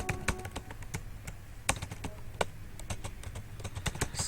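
PHP code being typed on a computer keyboard, irregular bursts of crisp key taps close by, some louder strikes among quicker light clicks, with no talk.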